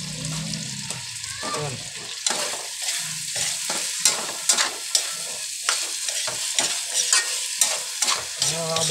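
Olive oil heating in a pan for corned beef sizzles and crackles steadily, with sharp clinks and scrapes of stirring and a brief low voice near the start.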